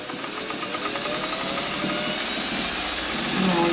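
A sewing machine runs steadily while stitching a free-motion doodle quilting line, a loud continuous whirring drone that swells slightly at the end, with no voices.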